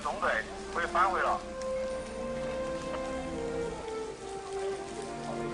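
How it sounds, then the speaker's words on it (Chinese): Light rain falls steadily outdoors after a fire has been put out, a constant soft patter heard under a voice. "天下起了小雨"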